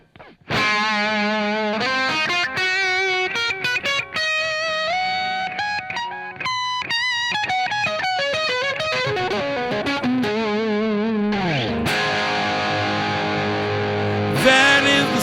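An electric guitar played through delay and light speed effect pedals rings out alone in a melodic run of sustained, echoing notes with distorted chorus-like shimmer, ending in a swelling, fuller chord.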